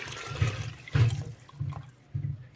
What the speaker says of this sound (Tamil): ரெண்டாவது பவுல் தண்ணி சேர்த்துக்கலாம்.